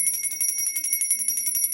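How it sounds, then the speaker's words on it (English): A small bell rings in quick repeated strikes, its bright metallic tone shimmering steadily for nearly two seconds, close and clear with no talking. "Fix my little bell."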